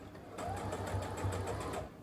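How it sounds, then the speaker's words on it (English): A sewing machine stitching pieces of a fitted bed sheet together, a steady close mechanical whir with a rapid rhythmic needle chatter running through the whole short stretch, no voices over it. "we're gonna sew that together with the other half of the pattern"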